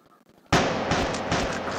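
A shotgun fires at zombies in the game Rope Hero Vice Town, starting abruptly after near silence with a loud blast followed by a dense run of repeated shots and impacts.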